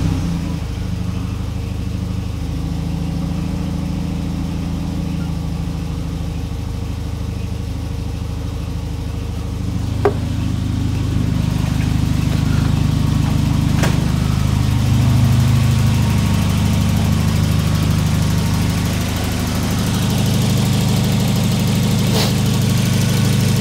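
A Volvo 945 Classic engine runs at a steady low idle, loud and close, its rumble continuous with a brief tick partway through.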